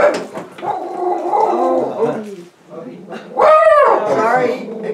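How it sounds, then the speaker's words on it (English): A dog barks and whines loudly nearby, with a sharp yelping burst near the end, while a person talks alongside. "Sorry, ignore the dog."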